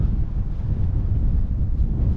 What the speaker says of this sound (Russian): Ой, начал дуть плотный ветер.